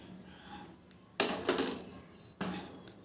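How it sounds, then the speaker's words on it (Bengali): A used clay Diwali oil lamp is set down on a lit gas stove burner, giving a few sharp clinks and clatters of contact, close by, over the faint steady hiss of the flame. "গ্যাস ওভেনটা জ্বালিয়ে দিচ্ছি, এর উপরে দেখো একটা প্রদীপ বসিয়ে দিচ্ছি"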